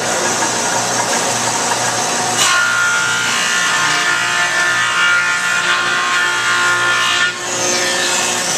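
A thickness planer feeds a wooden board through, giving a loud steady close machine whine with a shift in tone partway through as the cut begins and ends.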